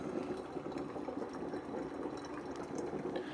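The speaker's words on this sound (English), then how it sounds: "This one over here does seem to be brewing just a little bit quicker." A Ninja drip coffee maker brewing, giving off a faint steady gurgle and trickle of hot water through the machine with a soft bubbling hiss, close by and without speech.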